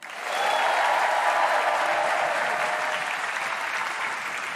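A comedy club audience in Paris breaks into steady, full applause that swells quickly and holds at an even level for several seconds, with no voices over it.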